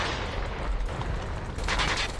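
Rapid automatic gunfire from the mobile shooter game COD Mobile, a Krig 6 rifle among the shots, with a steady dense rattle of bursts running throughout the short stretch and a brighter crackling flurry near the end.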